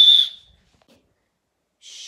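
Referee's whistle on a football pitch during a match: a sharp, loud shrill blast, a short silence, then another whistle blast starting at the end.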